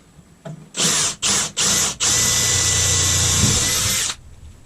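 A power drill whirs close by in three short bursts, then runs in one long steady whine as it pre-drills through a 1x2 wood board, stopping abruptly.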